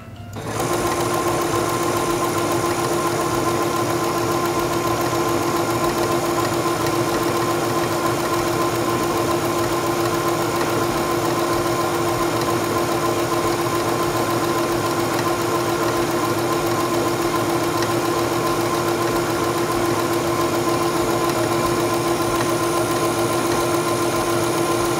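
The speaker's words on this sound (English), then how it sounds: "Place your fabric under the presser foot, lower the presser foot, and begin sewing." A Singer Stylist 7258 sewing machine stitching fabric runs in a steady, continuous mechanical hum and whir at close range, loud and unbroken for the whole stretch with no talking.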